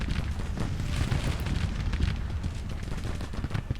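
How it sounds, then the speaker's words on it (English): Dense, continuous gunfire from infantry volleys in the Civil War strategy game Grand Tactician: The Civil War, a steady crackling roar of massed musketry with thuds, loud and sustained with no talk. "Open fire, Vaughn, into their flanks."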